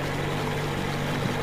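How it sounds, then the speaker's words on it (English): Steady idling boat engine in Metro Exodus, a constant low droning hum with a faint propeller-like whir, holding at even volume throughout with no talk over it. "Kill the engine, guys!"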